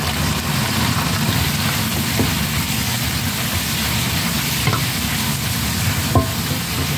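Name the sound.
squid frying in a pan for adobo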